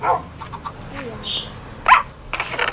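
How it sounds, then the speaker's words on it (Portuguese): A dog barks and yips in Minecraft Pocket Edition, several short game barks scattered through the moment while a person talks over them. "Meu cachorrinho."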